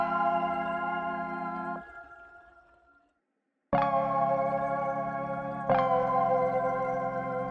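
A Simply Moog analog synth preset plays plucky minor chords dry with no effects, each chord sustaining with a shimmering attack before a short silent gap, then two more chords struck in succession.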